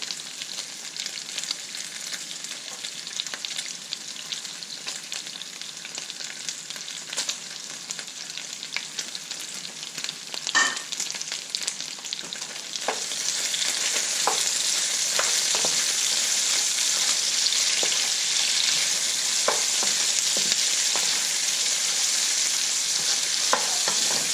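Sweet and sour pork riblets fry in a hot pan with scallion, a continuous bright sizzle that grows louder midway, broken by scraping stirs and clicks of a utensil against the pan.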